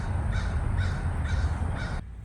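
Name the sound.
birds calling outside on a spring day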